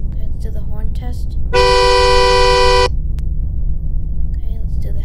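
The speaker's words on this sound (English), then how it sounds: "Okay, let's do the horn test." A 2022 Audi Q5 sounds its horn in the Roblox game Greenville: one loud, steady honk of about a second over a low engine idle, with talking before and after it.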